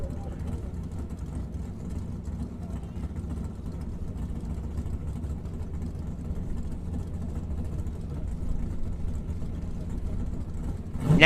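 A '67 Chevy II race car with a small-block engine and a four-speed transmission idles with a steady low rumble, and a voice talks over it. The engine swells louder near the end.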